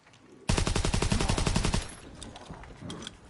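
Submachine gun fire in Call of Duty WWII Zombies: one loud, rapid, close-up burst lasting over a second, followed by quieter mechanical clicks and handling.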